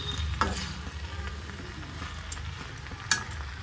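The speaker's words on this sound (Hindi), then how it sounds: "अब तो तड़का मार दिया" Tadka tempering in a pan while cooking moong dal halwa, with a continuous close sizzle and a couple of sharp scraping stirs of a spoon against the pan.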